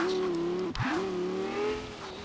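A Lexus LFA's engine in a racing video game, held at a steady high pitch while the car wheelies, with a brief dip and tire squeal midway before the tone climbs back and holds.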